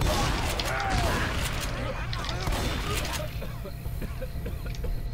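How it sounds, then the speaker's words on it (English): Shotgun reloading in Left 4 Dead 2: a run of clicking, clacking shell-loading mechanics under game ambience and background voices, loud at first and growing quieter and sparser toward the end. "I'm reloading my shotgun"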